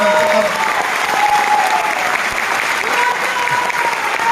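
A large audience at a business event claps loudly and continuously in a dense, even wash of applause that holds for over four seconds, with a faint murmur of crowd beneath.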